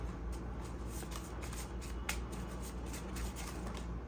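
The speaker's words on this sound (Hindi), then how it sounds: "हम शफल करेंगे दोबारा" A deck of tarot cards is shuffled close by, making soft, quick repeated riffles and flicks under a steady background hiss. The sound is faint and continues throughout, with no talking.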